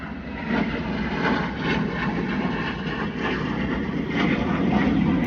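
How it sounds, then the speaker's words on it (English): A jet airplane passes low overhead on its approach, a loud, steady broadband roar that holds for several seconds and swells slightly toward the end, with no talk over it. "That's a jet, baby. It's coming in. It's right over us."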